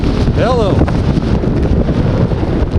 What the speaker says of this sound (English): It is blowing really, really hard.